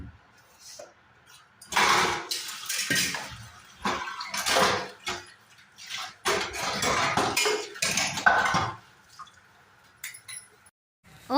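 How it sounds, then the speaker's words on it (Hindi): Pots, dishes and utensils are washed by hand in a home kitchen, clanking and clattering in repeated bursts with splashing water and short pauses in between, close and fairly loud. "यहाँ पर मैंने सबसे पहले बर्तनों को ही साफ़ कर दिया है"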